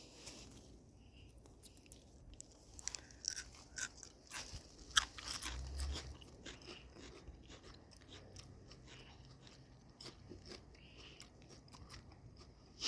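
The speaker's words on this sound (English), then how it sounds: "Just pick one off and eat it." Crisp, close crunching bites into fresh sugar snap peas picked from a garden repeat irregularly over a quiet outdoor background, with chewing noises between them.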